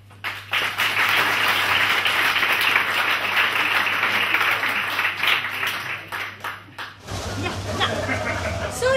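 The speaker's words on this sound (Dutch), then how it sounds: "Dames en heren, een groot applaus voor deze optreden." Applause and clapping from a theater audience for pole dancers at a revue show, a sustained burst of hands that drops off sharply near the end as a voice and stage sounds take over.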